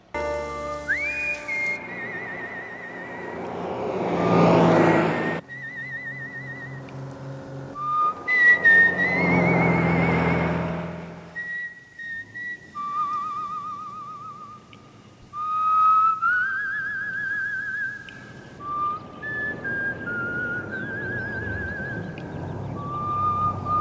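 A single person whistles a slow, plaintive melody with long held notes and pauses, alone against a quiet background with faint soft accompaniment.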